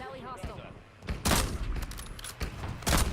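Sniper gunfire in a video game, a few sharp loud bursts and cracks in quick succession, with excited voices talking over them.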